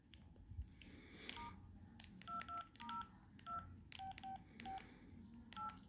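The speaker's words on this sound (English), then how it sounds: "if we dial star 228 for activation and put it on speaker" A Samsung A870 phone keypad plays a rapid series of short dual-tone beeps while star 228 is dialed, faint and slightly distant over a low background hum.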